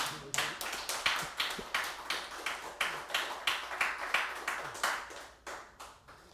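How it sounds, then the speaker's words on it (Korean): Church congregation clapping together in a steady, rhythmic beat of many hands, fairly close and even, with no one speaking over it. "박수 한번 쳐줘야 돼 진짜"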